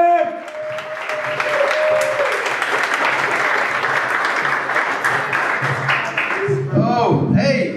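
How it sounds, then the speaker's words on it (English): Studio audience applause and cheering as a comedian is called up on a talk show, loud and continuous for several seconds, then thinning out near the end as a voice begins talking. "Why you stop clapping when you see me?"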